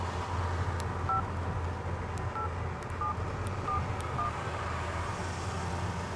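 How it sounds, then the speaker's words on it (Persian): A telephone number is dialed as a series of short, spaced keypad tones, about six or seven beeps at an even pace, heard over a steady engine rumble from inside an ambulance. "الان زنگ میزنم مهندس پیاد حواشو داشته باشه"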